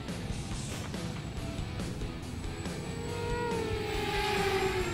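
An Eachine Racer 250 racing drone flies with new propellers outdoors near a soccer game, giving a steady whining buzz that rises in pitch and grows louder toward the end, with no voices.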